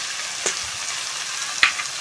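Potato and mushroom with salt, turmeric and chili powder stir-fry in a pan as a soft, steady sizzle, broken by a couple of faint scrapes of a spatula.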